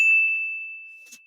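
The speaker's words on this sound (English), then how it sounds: "That notification bell." A single notification bell ding rings out clearly with a pure, sustained tone that slowly fades, followed by a faint soft clink near the end.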